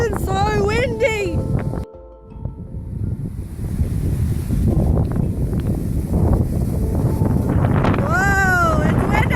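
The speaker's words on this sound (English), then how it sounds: "it's cold and it's windy. So cold and so windy!" Strong, cold wind blows outside at night in the rain, a loud, continuous roaring rumble of gusts buffeting the microphone, with people talking excitedly over it.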